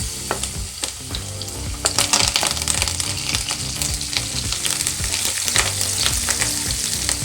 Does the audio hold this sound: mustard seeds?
yes